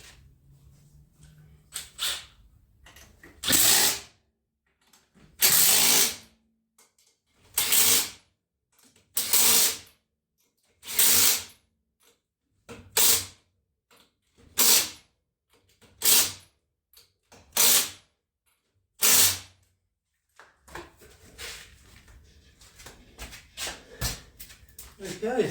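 Wheels going back onto a Dodge Charger with a ratchet and hand tools: about ten loud, close bursts of rapid clicking separated by quiet pauses, with softer clattering of tools toward the end.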